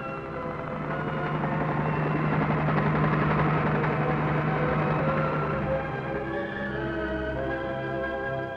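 A helicopter drones steadily with a low rotor hum and engine whine, fairly loud and continuous throughout, with no talking.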